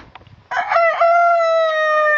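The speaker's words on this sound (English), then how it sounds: "That one is the cock." A rooster crows once, close and loud, its long drawn-out call sustained for over a second after a few faint background noises.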